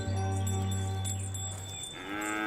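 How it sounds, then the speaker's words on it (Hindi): A buffalo lets out a long, loud, low moo that carries for nearly two seconds, close by in a village setting, followed by quieter rustling and background sound. "ये तो सिर्फ भैंस है, बफेलो।"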